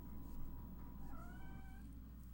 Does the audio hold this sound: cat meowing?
yes